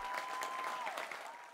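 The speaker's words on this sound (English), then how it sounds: "Round of applause for Obi-Wan." A studio audience applauds after a guest is introduced as Jedi Master Obi-Wan Kenobi on a Star Wars trivia show, with steady, dense clapping that holds for the whole stretch, a faint tone running underneath.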